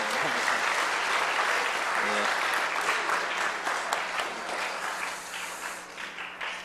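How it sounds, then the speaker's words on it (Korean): A church congregation at an Easter service breaks into sustained, full applause for a visiting pastor, steady for several seconds before gradually thinning, with some speech faintly underneath. "박수 한번 칠까요?"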